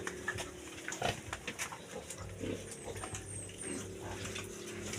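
A pig grunts in several short, low snorts close by, moderately faint against background noise and some splashing water.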